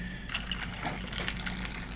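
Soda pours from a can into a glass for an Irish Buck cocktail, a soft fizzing trickle after a brief quiet start, close by and fairly faint, with gurgling bursts as the liquid fills the glass.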